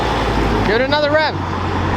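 A straight-piped Dodge Charger SRT8 gives a single short rev that swells and falls away within about half a second, over a constant background rumble.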